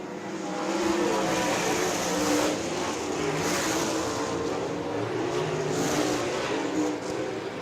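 USAC race cars, including the number 98 car, race hard around the dirt oval at Mohave Valley Raceway in the closing laps, a loud, continuous engine roar with surging swells as cars power past, nearby and unbroken.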